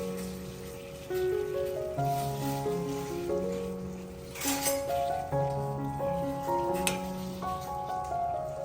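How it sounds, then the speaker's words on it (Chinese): Water bubbles and hisses softly as it boils with tangyuan glutinous rice dumplings dropped in, a steady low simmer under gentle background music. "水开了，下汤圆。"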